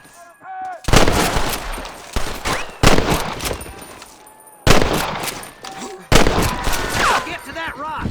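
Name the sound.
gunfire in a shootout in the video game Red Dead Redemption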